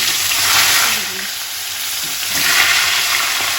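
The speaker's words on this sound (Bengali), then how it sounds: "এবার আমি মাথা দুটোকে একটু লাল লাল করে ভেজে নেব" Fish heads fry in hot oil, a close, steady sizzle that swells and eases a couple of times as they are turned, with no talking.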